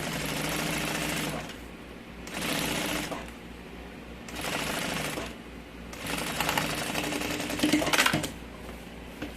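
A sewing machine stitches the lining of a large changing bag in four or five rapid mechanical bursts of a few seconds each, separated by short pauses, close and clear with no speech.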